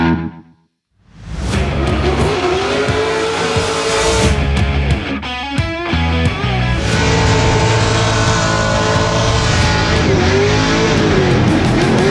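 A race car makes a loud run on track, its engine roaring steadily with sharp gear changes and brief revs, after a short quiet gap at the start.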